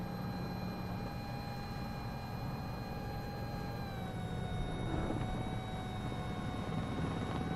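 A Sikorsky S-76C++ helicopter with a tail rotor fault in a flight simulator game, its turbine whine and rotor drone steady and loud throughout, with no voices.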